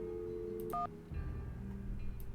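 Telephone keypad tones sound in a Nancy Drew video game as a phone is dialed: a couple of short, clear beeps followed by a faint electronic line hum, with no talking.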